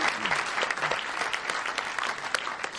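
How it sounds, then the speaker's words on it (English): Audience at a startup demo day giving a brief round of applause, many hands clapping briskly and fairly evenly at moderate volume from the room. "A round of applause, please."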